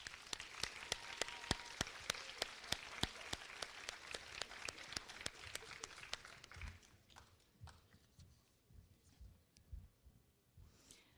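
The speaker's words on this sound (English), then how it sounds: "Give them another round of applause." Audience applause at a high school awards ceremony, with sharp scattered claps that are fairly loud for about six seconds, then thin out into a few soft, sparse claps and faint room noise.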